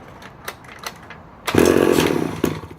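A vintage Danarm 110cc chainsaw roars to life after a few faint pulls, its two-stroke engine running loud and close with a rough, buzzing snarl for over a second before easing slightly.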